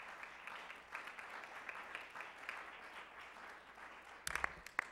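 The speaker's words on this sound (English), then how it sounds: "let's give Kyle a round of applause" An audience at a school district board of education meeting claps, giving a faint, steady patter of applause in a room, with a few louder nearby claps toward the end.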